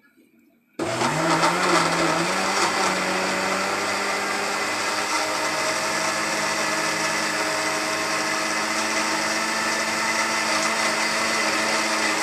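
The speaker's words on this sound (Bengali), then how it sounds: "সেজন্য আমি এটা এখন ব্লেন্ড করে নেব" An electric blender whirring through banana juice with milk and yogurt, switching on abruptly after a brief quiet moment, then a loud, steady, close-up motor whine and churning that holds unchanged without any talk.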